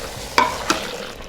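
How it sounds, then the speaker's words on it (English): Vegetables for ratatouille sautéing in an Instant Pot are stirred: two sharp scrapes of a utensil against the pot, about a third of a second apart, over a soft continuous sizzle, close and with no talk. "I'm just going to stir this around."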